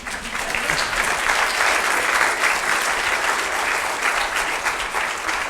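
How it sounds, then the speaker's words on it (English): A lecture hall audience breaks into sustained applause after a mathematics talk, a dense, even wash of clapping that holds steady at moderate loudness with no voices over it. "I will pass your applause to Professor Euler, who deserves it."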